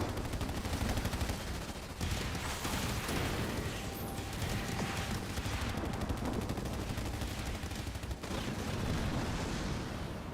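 Sniper and other gunfire in the video game Halo Wars 2 during a 2v2 match, a dense, continuous barrage of crackling shots and blasts at a steady loud level throughout, with no voices.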